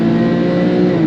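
A Porsche 911 997.2 Carrera S engine pulls hard under acceleration, a loud, close, continuous rasping roar that holds throughout.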